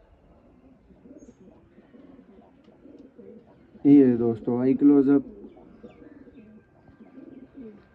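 A purebred Sialkoti pigeon in its cage gives a loud burst of rolling coos at close range, while someone talks quietly before and after the calls.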